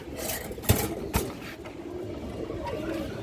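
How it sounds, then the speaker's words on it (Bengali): Brown-necked female pigeons of a run-blood breed coo softly in a loft, a low continuous burble broken by two sharp knocks near the start, with no voices heard. "মাশাআল্লাহ খুবই সুন্দর কিন্তু একটা কবুতরটা"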